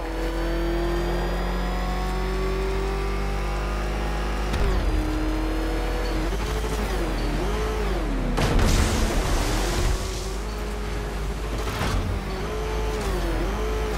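A ramshackle car engine in Batman: Arkham Knight revs hard, holding a steady droning pitch, then repeatedly rising and falling as it accelerates, with bursts of rushing noise and crashes partway through.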